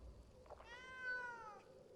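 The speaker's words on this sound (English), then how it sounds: "It was a house cat, yeah." A house cat meows once in the Pathfinder: Kingmaker video game, a clear drawn-out mew with a rising then falling pitch, heard alone over a faint background hum.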